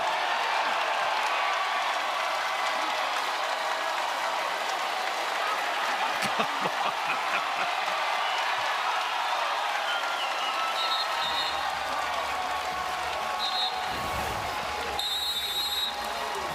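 A crowd applauds and roars at a Basketball Tournament game, a dense, continuous wash of clapping and cheering from a packed arena. A few short electronic beeps appear near the end.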